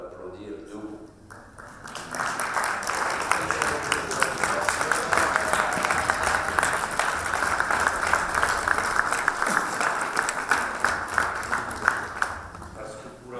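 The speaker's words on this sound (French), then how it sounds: "l'applaudir et de l'applaudir debout" Standing ovation from an audience, a thick, continuous roar of clapping that swells after a quieter opening and stays loud throughout, with voices mixed in.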